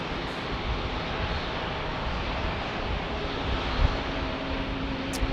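Jet airliner in Alaska Airlines special livery passing at San Diego airport, a steady broadband engine roar with wind rumble holding level throughout, fairly distant and unbroken.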